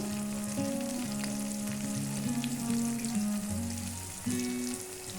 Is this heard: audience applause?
no